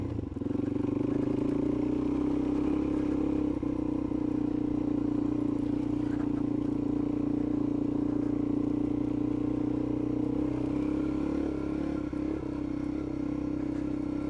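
A Suzuki DRZ 400 motorcycle engine running loudly at a steady idle, with a close, continuous low droning hum and slight mechanical clatter and no speech.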